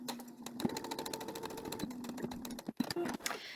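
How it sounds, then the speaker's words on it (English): Embroidery sewing machine stitching an in-the-hoop modular table runner, a fast steady mechanical hum with rapid needle ticks, close and continuous, pausing briefly near the end before restarting. "I'm just going to run a quick stitch"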